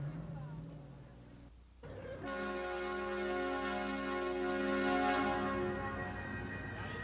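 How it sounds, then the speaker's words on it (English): The Rondout Belle, a river tour boat, sounds its whistle in a loud, sustained multi-tone blast lasting several seconds, preceded by a brief shorter toot and low engine rumble. "Scott Miller, the boat's co-owner, pushes off, and Captain Steve Schwartz sounds the whistle."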